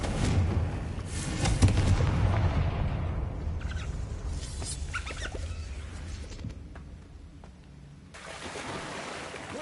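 A Confringo fire spell in Hogwarts Legacy gameplay: a loud blasting burst near the start, fading into rumbling, crackling game effects and dimmer noise, with a renewed swell at the end.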